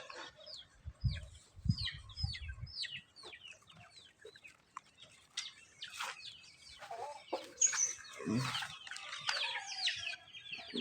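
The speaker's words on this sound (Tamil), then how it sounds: "நாட்டுக்கோழி" Native country chickens cluck and chirp in short bursts close by, with scattered rustling and a few louder squawks, no speech.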